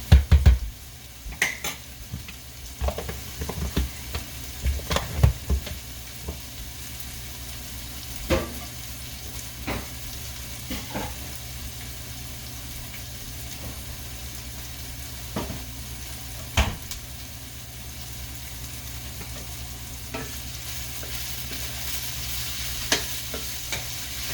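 Onions, garlic and ginger fry in a pan over raised heat for a paneer and capsicum sabji, giving a steady close sizzle broken by spatula scrapes and occasional clinks against the pan, with no talking.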